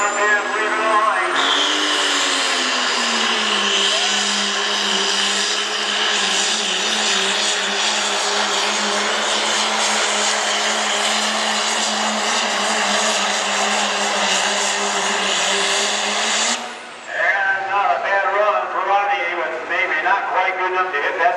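A diesel pulling truck at a 2014 Ohio truck-pull event revs past 4,000 RPM, its engine holding a loud, steady, droning roar for about fifteen seconds before briefly dropping off and picking back up.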